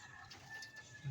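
A racing pigeon coos softly and close by, one low murmuring call in a short, quiet moment.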